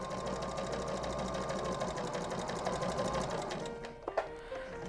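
A sewing machine runs continuously, stitching across the top of apron fabric with a steady, close mechanical hum that eases off and stops briefly toward the end.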